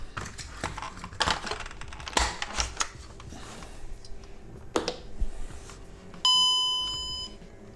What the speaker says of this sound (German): Da ist der Gong wieder, wie man schön gehört hat.